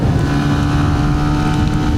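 Yamaha Y16ZR motorcycle riding fast along a wet road, a steady loud engine drone with wind rush, close and continuous with no pauses.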